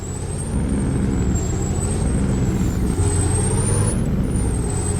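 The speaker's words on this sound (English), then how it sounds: "You gotta love the sound of engine compression brakes" Deep, rapid rattling engine braking from a truck, loud and sustained, with a thin high whine riding above it.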